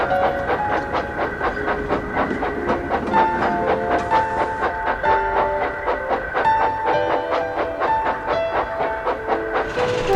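Old tram engine shunting in harbour yards, steady clickety-clack of wheels over rail joints with hissing steam and metallic ringing, continuous and fairly close.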